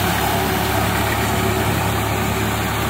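A tractor engine runs steadily in a wet, waterlogged field, idling with a constant low mechanical drone close by, with no talking.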